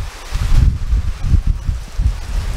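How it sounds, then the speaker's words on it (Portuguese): Wind gusts rush through leaves in steady waves during heavy rain, a low rustling roar that swells and fades without pause. "E o vento continua, viu?"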